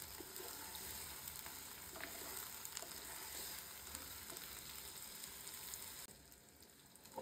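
Eggplant pieces for a pickle-style dish, seasoned with turmeric and salt, frying gently in oil with a faint steady sizzle that softens slightly just before the end.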